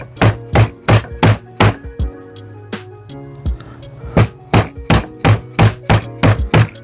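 A rusty old chisel chopping out a mortise in wood, sharp, loud rhythmic thunks in quick bursts of five and seven strikes, separated by a pause of quieter scraping and tapping, with no talk.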